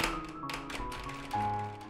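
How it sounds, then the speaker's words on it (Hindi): A door latch rattles in a horror audio drama as a series of light, quick metallic taps and clicks over a low, sustained eerie music bed. The taps are moderately close and partly masked. "फिर उसने कुंडी की खड़खड़ाहट सुनी"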